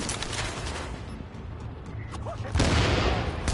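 Frag grenade going off in the video game The Division, a muffled blast and burst of crackling gunfire-like noise that swells loudly near the end, with no talk over it.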